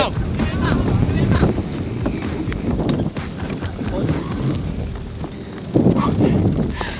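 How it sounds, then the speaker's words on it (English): Steady wind rushes over the microphone aboard a racing sailboat off Penghu Island, Taiwan, with people talking underneath and occasional knocks and creaks. "wind is picking up a little bit again"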